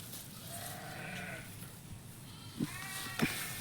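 Sheep bleat several times at a moderate distance on an outdoor plot with overgrown leafy plants, the wavering cries separated by short gaps and a couple of sharp knocks, with no talking.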